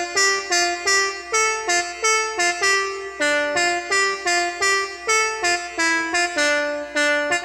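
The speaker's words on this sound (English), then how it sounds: "So I managed to create a melody that sounds like this." Synthesized melody built in FL Studio Mobile, a bright buzzy lead playing a steady run of short, evenly spaced notes that step up and down in a repeating phrase, loud and clear with no voices.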